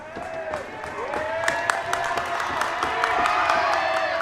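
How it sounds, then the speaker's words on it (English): A high school basketball student section gets loud during a free throw in a Carthage versus Indian River game, a sustained roar of cheering, whooping and clapping that swells steadily in a gym. "Student section gets loud and draws the miss on the first free throw from Reagan Ross"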